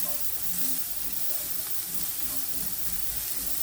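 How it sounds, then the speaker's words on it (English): Shallots frying in oil give a steady, close sizzle with a soft crackle and hiss that holds evenly throughout, with no voices. "we'll go in with the shallots. You need a little bit of more oil in at this point"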